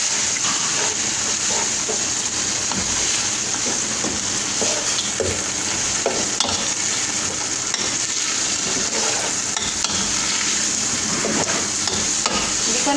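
Majboos cooking in a pan for lunch, a steady loud sizzle and frying hiss throughout, with occasional scraping and stirring clinks.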